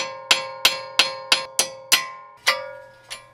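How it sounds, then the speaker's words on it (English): Metal hammer striking a wheel stud to drive it out of a car hub, eight sharp ringing blows in a steady rhythm, each with a bright metallic ring decaying between hits, close and loud. "So how to get these out is you're gonna have to hammer it."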